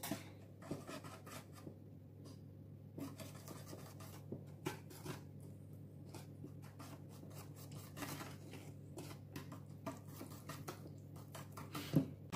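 Dry muffin ingredients, sieved flour with baking powder, stirred in a bowl: quiet repeated scraping and rubbing strokes against the bowl, irregular in rhythm, close and soft, with no voices.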